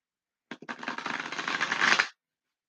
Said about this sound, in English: I'm going to shuffle one more time and get your Shaman's Dream Oracle cards.